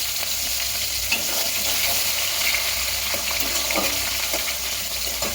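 Chopped onion fries with cumin seeds in a hot kadai, a dense, steady sizzle at close range that holds evenly loud from start to finish with small crackles on top and no voices.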